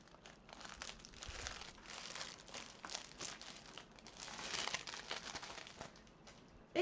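Bubble wrap packaging crinkles and crackles while diamond-painting supplies are unboxed; the rustling is quiet, close and continuous, with irregular small crackles throughout and no speech.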